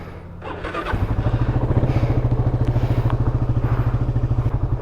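A motorcycle engine starts up and settles into a fast, steady idle close by, its rhythmic thumping continuing loudly for several seconds on a pre-dawn ride with two bikes.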